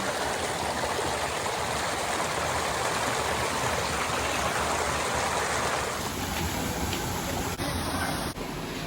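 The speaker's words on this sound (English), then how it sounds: "we're coming up on some really beautiful waterfalls here" Waterfalls and a stream rush through The Narrows canyon in Zion National Park, a steady dense roar of flowing water, close and loud for the whole stretch with no voices.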